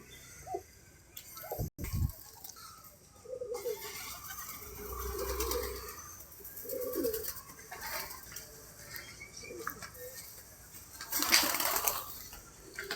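Pigeons settling at a loft water spot, with soft cooing and fluttering wingbeats amid a steady outdoor background; a sharp knock and a brief splashy burst stand out, and no one speaks.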